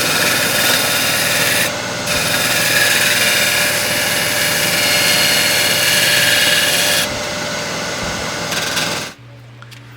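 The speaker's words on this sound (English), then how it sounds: "some final passes with the scraper, and the outside is pretty well done" A woodturning scraper makes final finishing passes on the outside of a bowl spinning on a lathe, a steady loud rasping hum with brief dips, running until it drops off near the end.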